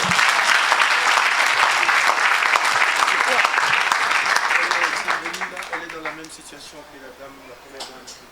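A church congregation applauds during a Saturday service, with loud sustained clapping and crowd noise that fades over several seconds into scattered claps and voices.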